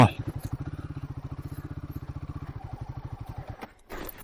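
A motorcycle engine thrums close by in a fast, even pulsing rhythm that holds steadily for several seconds, then drops away abruptly before a short burst of noise.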